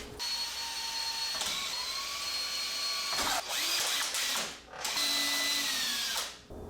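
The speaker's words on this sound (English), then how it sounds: "get some pilot holes started, because we can only drill this once" A drill bores pilot holes into a motorcycle part in a workshop, running loud and close in several bursts with brief pauses between them and a high whine as the bit spins.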